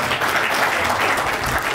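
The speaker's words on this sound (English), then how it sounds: "let's give him a round of applause" A room of people at a Toastmasters club installation event applauds, steady dense clapping filling the whole moment at an even, moderately loud level with no voices over it.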